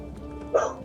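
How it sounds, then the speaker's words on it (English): The neighbor's dog lets out a single short bark about halfway through, moderately close, against faint background noise. "That's not Daisy, that's Maggie, that's the neighbor's dog."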